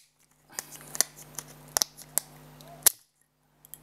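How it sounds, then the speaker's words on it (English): Plastic retaining clips on the back cover of a Huawei Ascend P6 phone snap loose one after another as it is pried off, a series of sharp close clicks at irregular intervals over quiet handling noise. "Don't worry about those clicking sounds because"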